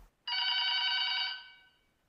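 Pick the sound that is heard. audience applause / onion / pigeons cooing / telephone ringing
telephone ringing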